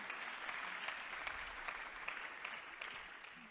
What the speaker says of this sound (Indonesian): Saya minta tepuk tangan dulu untuk Elis.